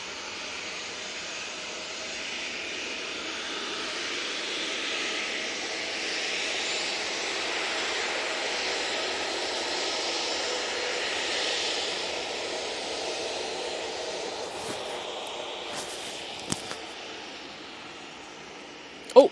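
Jet aircraft engines at Manchester Airport, a broad, distant roar swelling and holding steady before easing off, with a few faint clicks near the end.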